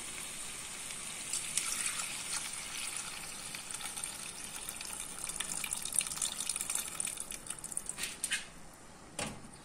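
Tamarind water poured into a pot of radish sambar, a steady close splashing and gushing of liquid that continues for several seconds before tapering into drips, with no talking.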